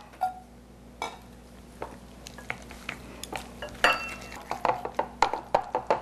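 Pork and spinach wonton stuffing, mixed two parts meat to one part vegetable, gets stirred by hand in a bowl, with a close run of soft squelches and light clinks that speed up toward the end.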